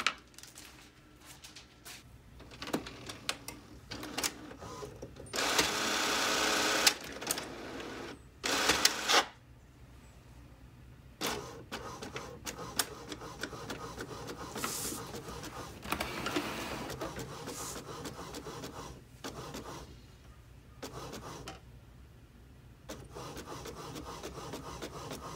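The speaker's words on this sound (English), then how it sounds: "And this will start printing." A home printer feeds and prints on sticker paper for wine labels, giving bursts of mechanical whirring, rasping and clicking that start and stop over about twenty-five seconds, close and moderately loud.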